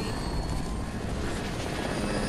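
Helicopter rotor and engine from Fortnite, a steady, loud, close whirring drone that holds without a break, with no talk.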